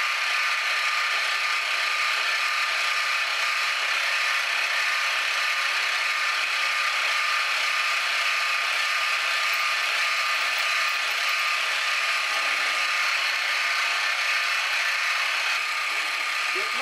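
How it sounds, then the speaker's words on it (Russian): A cutting tool grinds steadily through a Ford wheel disc to open a hole, a continuous loud, rasping mechanical whine held at a near-constant level with no pauses and no talking. "давайте-ка попробуем зарезаться на одно отверстие"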